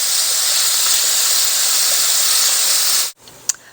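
Chopped onion and spinach sizzle in a hot pan with a loud, steady hiss that holds for about three seconds and then cuts off abruptly, leaving a quiet room with a small clink.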